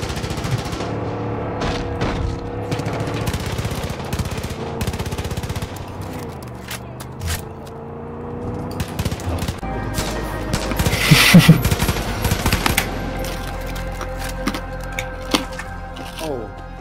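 Big machine gun firing in the video game Far Cry 5: loud, dense automatic bursts with sharp cracks, running in long stretches with brief pauses, under a player's voice.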